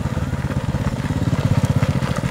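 Motorcycle engine running steadily and close by, a low pulsing throb that stays loud and continuous as a bike rider pulls up at a roadside checkpoint.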